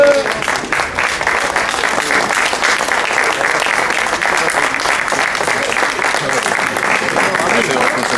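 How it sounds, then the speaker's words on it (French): Steady, dense applause from a large audience of Continental factory workers at a union gathering, continuous and loud for the full length, with a faint voice briefly audible at the start. "C'est pas pour lui qu'on applaudissait."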